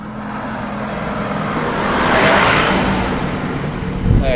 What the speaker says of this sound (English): A garbage truck or something